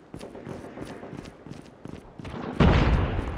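A frag grenade explosion in Call of Duty Mobile, a loud sudden burst near the end after a run of quieter footsteps and shots in a bomb-objective round.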